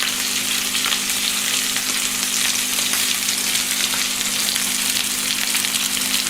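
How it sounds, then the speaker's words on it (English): Beef top sirloin steak searing in a hot skillet, a steady dense sizzle and crackle running unbroken and fairly loud throughout, with a low constant hum beneath. "make sure your skillet is hot when you put your steak in it"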